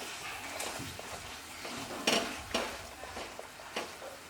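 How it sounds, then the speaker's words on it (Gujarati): Grated jaggery is stirred together with sugar in a pan for mamra chikki, giving a series of close spoon scrapes and knocks against the metal over a faint sizzle. "આ ગોળ અને ખાંડ બંનેને હવે મિક્સ કરી દેવાનું"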